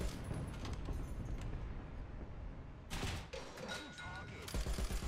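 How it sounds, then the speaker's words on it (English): Machine gun fire in the tank game War Thunder, dense rattling bursts up front, then a pause and more bursts with impacts, loud and close, with a voice talking over part of it. "Trying to light him up with my machine gun fire here."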